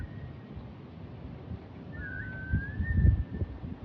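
A thin, drawn-out whistle rises and holds against a low rumbling background, faint and somewhat distant, with a brief earlier tone near the start.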